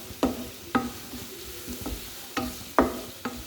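Egg curry masala gravy fries in a pan while a spoon stirs it in about six distinct scraping strokes over a continuous close sizzle.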